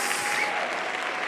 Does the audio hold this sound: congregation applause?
yes